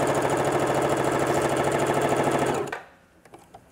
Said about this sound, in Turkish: Normal standart dikiş ayarıyla dikiyorum.